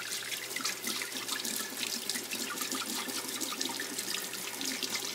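Juice strainer rinsed under a running tap, steady splashing water flowing continuously into a sink, fairly soft and close with no talk.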